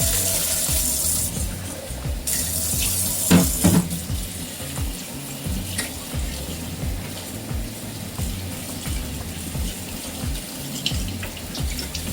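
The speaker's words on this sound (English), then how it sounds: "I'm going to drain the garbanzos and rinse them." Tap water runs steadily into a kitchen sink as drained chickpeas (garbanzo beans) are rinsed, a continuous close splashing with a few brief clatters early on and no talking.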